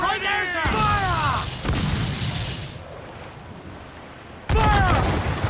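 Ship cannons fire in Assassin's Creed 4 Black Flag, booming blasts in separate bursts amid shouting crew voices and battle noise.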